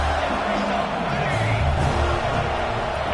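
A college football stadium crowd roars in a steady, dense wall of noise throughout, loud and sustained, with faint commentary voices mixed underneath.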